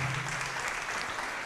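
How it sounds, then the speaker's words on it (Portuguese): Church congregation applauding during a sermon, a short stretch of steady, dense clapping heard softly at a distance. "vamos aplaudir"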